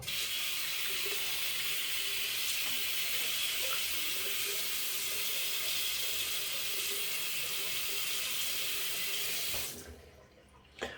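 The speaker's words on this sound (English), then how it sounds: "I've had to hold it at this kind of angle and get the water to run on it and just rinse out the lather channels" A steady stream of tap water runs into a sink for about ten seconds to rinse lather from a Razorock Hawk v3 SE safety razor, loud and continuous, then cuts off abruptly near the end.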